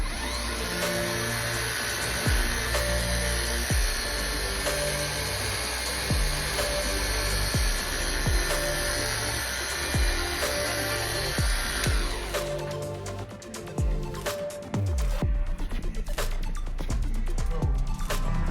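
A Cartec 3000 polishing machine works Harley-Davidson Low Rider motorcycle parts with a continuous close whirring hum and steady tonal whine, growing rougher and more scratchy in the final seconds.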